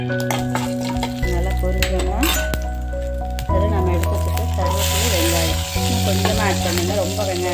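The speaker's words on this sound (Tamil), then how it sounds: "அதுக்கப்புறமா நம்ம கடுகு உளுத்தம் பருப்பு தாளிச்சிக்கலாம்" Mustard seeds and urad dal tempering in hot oil for a brinjal, tomato and onion chutney give a steady close sizzle and crackle, with clinks of a spoon, heard beneath music or voice.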